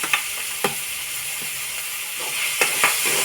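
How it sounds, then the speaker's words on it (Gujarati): Ginger and green chillies crackle in hot oil for a cabbage paratha, a steady broadband sizzle with a few sharp pops and the scrape of a spoon stirring, close and continuous with no talking. "આપણે આદુ મરચાં મિક્સ પેલા જ નાખી દઈએ એટલે સતળાઈ જાય તેલમાં"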